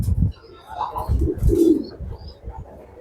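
A racing pigeon in a cage coos in low, soft, throaty bursts close by, a few repeated calls with brief rustling and faint chirps around them.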